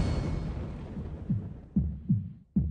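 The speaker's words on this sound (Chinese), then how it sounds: "为什么心跳这么快？" A dramatised heartbeat sound effect from a romance drama, a few deep, thumping beats growing more distinct and spaced in an uneven rhythm over a low, murky background hum.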